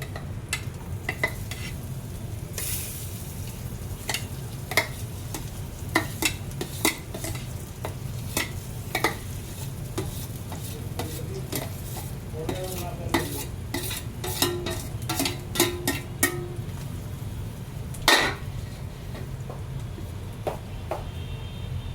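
Mashed or grated potato being stirred into a spice mixture in a pan for round bread pakoras, with steady scraping and stirring strokes over a soft constant sizzle, close and moderately loud throughout.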